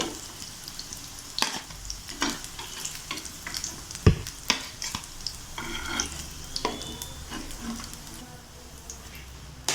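Stuffed vegetable chapati frying in a pan with a little oil, a soft steady sizzle broken by scraping and flipping clatters from a spatula, close up and moderately quiet.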